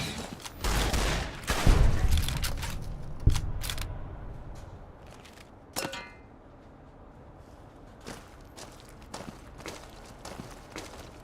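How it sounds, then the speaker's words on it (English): Video game gunfire cracks in scattered bursts, loud volleys early on, then sparser single shots and clinks fading toward the end. "What are you guys shooting at?"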